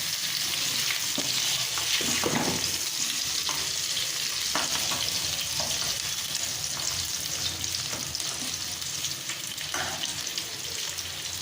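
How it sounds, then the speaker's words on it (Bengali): Chicken pieces frying in oil in a kadai for mocha chicken, a loud continuous sizzle with occasional spoon strokes and clinks, close and steady throughout. "চিকেনের পিসগুলোকে ভেজে নেব।"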